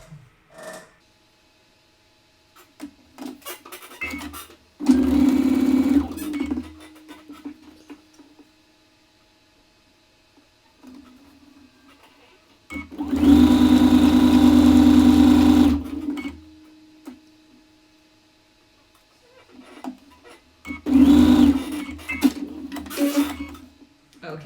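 A sewing machine joins quilt rows together in three separate bursts of fast, close whirring, with quiet gaps and small handling clicks between them.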